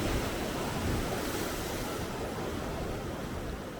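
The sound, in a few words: ocean waves hitting a sea wall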